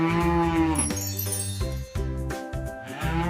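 A cow gives a series of long, loud, drawn-out moos, close and clear, with a cowbell tinkling faintly alongside.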